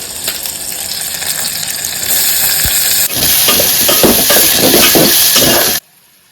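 Onion and capsicum sizzle and crackle loudly in a hot pan for a crab curry, with steady frying hiss and stirring scrapes up close before an abrupt stop.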